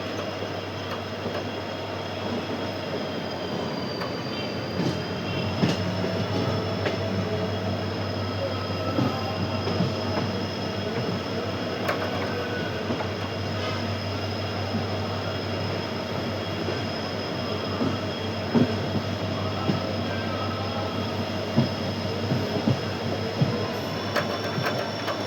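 A locomotive stands with a goods train, giving off a continuous low mechanical hum with a steady high whine above it, unchanging throughout with occasional faint clanks.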